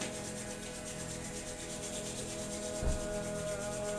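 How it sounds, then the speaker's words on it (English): Palms rub together steadily and continuously during a gentle yoga flow, a soft close hiss of skin on skin that holds even throughout, with no talking. "And then starting to rub the palms together."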